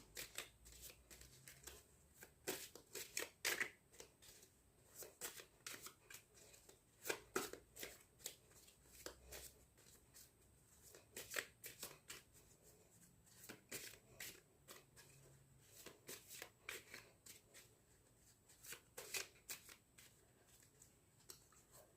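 Tarot cards shuffled steadily by hand for a long stretch, with soft repeated riffling and flicking close by and no talking.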